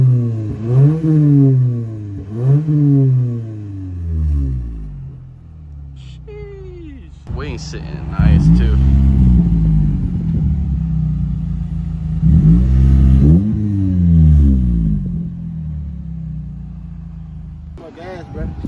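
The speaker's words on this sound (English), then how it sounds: "Dang, he revved all my gas out." A Gen 8 Toyota Camry's engine revs repeatedly, rising and falling in several close, loud bursts with pauses of idle between, while people talk nearby.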